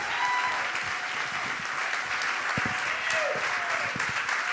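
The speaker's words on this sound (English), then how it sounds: "Keep clapping, keep clapping." Studio audience at a New York comedy news taping clapping steadily, a dense wash of many hands with a few whoops, continuous and full throughout.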